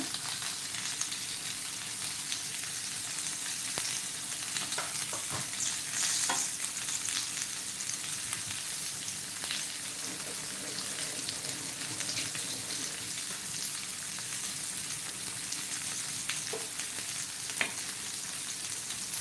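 Bangda mackerel frying in hot oil until crisp, a dense steady sizzle with crackling pops running throughout at close range, with no talking.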